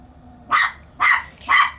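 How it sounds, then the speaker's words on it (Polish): A small dog, likely a tiny Yorkshire terrier, gives three evenly spaced, sharp, high-pitched barks close by over a quiet background. "A tam koleżanka szczeka i kolega się popisuje"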